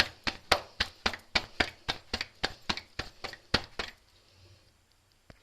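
A cooked paratha being cut by hand, with about fourteen sharp, evenly paced chopping taps close up over roughly four seconds, ending in quiet room tone.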